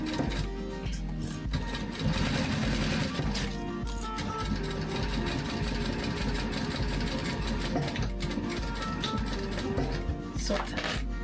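A sewing machine back stitches a glasses case, running in short rapid mechanical bursts with clicks and brief stops between runs, close and fairly quiet.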